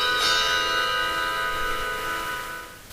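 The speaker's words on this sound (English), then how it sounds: "it's time to shut those damn bells up already" A bell rings with a bright struck onset and long shimmering overtones that slowly fade, a single sustained peal heard alone at moderate loudness.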